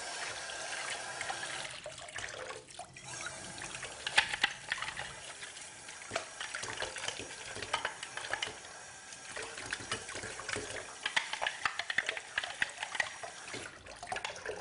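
Running water rinses pulp from a part of an Oscar juicer, a soft, continuous splashing and trickling at low level with a few brief clatters, no speech.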